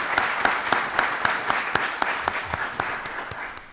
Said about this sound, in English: let's give our community coaches another round of applause